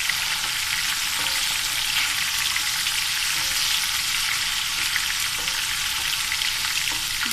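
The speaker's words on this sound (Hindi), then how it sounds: "ये मैंने प्याज ब्राउन करने के लिए रखी थी। अब ये ब्राउन हो गई है" Browning onions crackle and sizzle steadily in a pan for moong dal, a dense, even frying hiss with occasional light stirring taps throughout.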